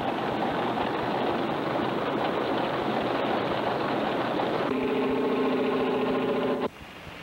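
Minneapolis Moline Twin City Universal J tractor engine running steadily and fairly loud, a continuous broadband rumble; near the end a tonal whine rises over it before the sound drops off abruptly.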